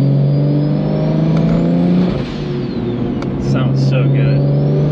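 A BMW 135i with a single turbo pulls hard at full throttle through the gears toward redline, its loud engine drone dipping briefly at a shift before climbing again, with voices talking over it.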